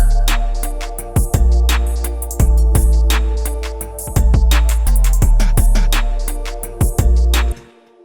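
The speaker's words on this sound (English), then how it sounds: "Try this vocal punch." A punchy vocal hit sample is programmed into an Ableton hip-hop beat, repeating in a steady rhythmic pattern over booming bass and drum hits, loud and upfront with no talking.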